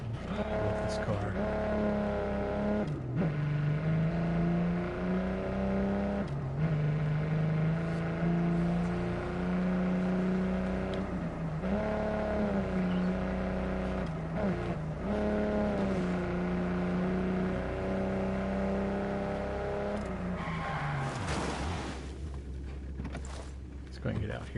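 Car engine in Ghost Recon Breakpoint, a sustained drone that rises and dips with gear changes and brief tire squeals, with someone talking over it throughout.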